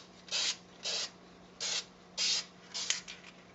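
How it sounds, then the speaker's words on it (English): Spray paint can hissing onto a Nerf Sharp Shot blaster in five short, steady bursts separated by pauses, close up and fairly quiet, with no talking. "hold your spray paint"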